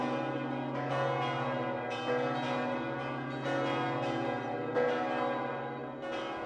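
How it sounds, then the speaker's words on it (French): Church bells peal together in celebration of peace, a full, resonant ringing with overlapping strokes that keeps sounding steadily and loudly throughout. "Les cloches se mirent à sonner pour célébrer la paix."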